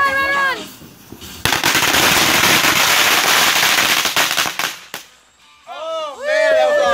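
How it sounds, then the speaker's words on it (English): A loud Big Woods firework goes off at a Fourth of July gathering with a burst of rapid crackling bangs lasting several seconds. Excited voices are heard before and after it. "Big Woods firework."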